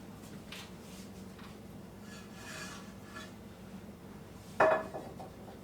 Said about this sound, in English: let me get a straw hickey-madoodle to set here and put my skillet on